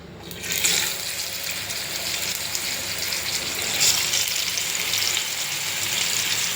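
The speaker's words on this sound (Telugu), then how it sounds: "కొంచెం నూనె కాగితే అప్పుడు అది ఫ్రై పీస్ వేసుకోవాలి" Four fish pieces frying in hot oil in a pan, a loud continuous sizzle and crackle that bursts up as the fish goes in and stays steady throughout, with no one talking.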